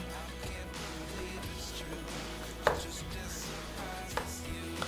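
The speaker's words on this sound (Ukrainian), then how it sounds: "Нарізаємо цибульку" Knife chopping onion on a cutting board, a steady series of soft close taps with one sharper knock midway, kitchen clatter faintly behind.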